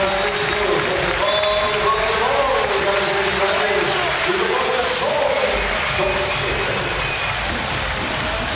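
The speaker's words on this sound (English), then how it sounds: "gets the ovation from the crowd" Crowd applause and cheering fill the arena as a basketball player comes onto the court during a FIBA EuroBasket 2017 game between Germany and Israel, a loud continuous ovation with a commentator talking over it.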